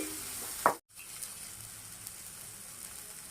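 Chopped tomatoes fry in a pan for egg uggani with a soft, steady sizzle. A brief clatter near the start is followed by a short dropout, then the quiet frying continues with no talking.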